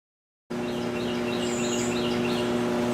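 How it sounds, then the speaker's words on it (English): Outdoor birdsong with faint chirps and tweets over a steady electrical hum and hiss from an arc welder buzz box running nearby, continuous throughout after a silent start. "Nothing like hearing a buzz box with birds singing."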